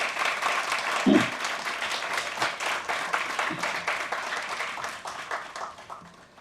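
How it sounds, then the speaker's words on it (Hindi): An audience at the 14th Natsamrat Theatre Award ceremony applauds an honoured guest, a dense, steady burst of many hands clapping at moderate distance that swells briefly near the start, then gradually thins and fades toward the end. "उनके लिए तालियां जरा दीजिए"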